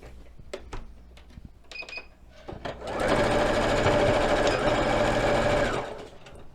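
Sewing machine stitching a cord onto a small doll's backpack: a few light clicks and taps, then a steady, loud mechanical whirring run of stitching lasting about three seconds before it stops.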